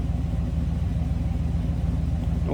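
A 1958 Studebaker Silver Hawk coupe with a 289 engine idles through chrome-tipped exhaust, giving a steady, close, even low rumble with a fast regular pulse.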